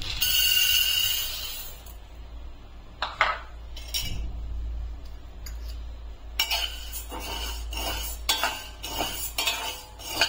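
Sago pearls roast in a kadhai while a metal spoon stirs them, making scattered scraping strokes and light clinks over a low background hum, quieter at first and busier toward the end.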